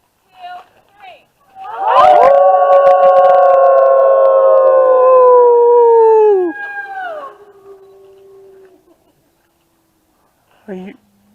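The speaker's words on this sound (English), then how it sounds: "Group howl, let's see if this little guy will howl with us." People join in a group howl with a wolf at a Colorado wolf and wildlife center: long, loud, sustained howls sliding slowly downward for about five seconds, trailing off into fainter tones, with a brief voice before and after.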